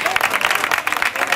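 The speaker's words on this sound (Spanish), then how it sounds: "Un aplauso para Miguel Ángel." An audience at an association fair applauds briefly during a drawing prize presentation, a loud close burst of rapid, overlapping clapping.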